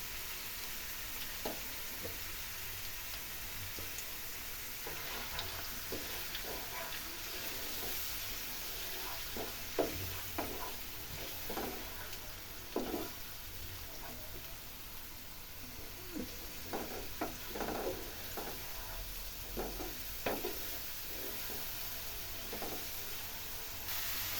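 Blended onion paste masala sautéing in a pan for a rohu fish curry, giving a steady close sizzle with repeated scraping stir strokes and clinks from a spoon, continuous and without speech.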